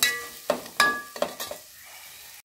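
Vertically sliced large onions frying in a pan for egg dum biryani, a low sizzle punctuated by a handful of sharp scraping strokes of a spoon, close and without speech.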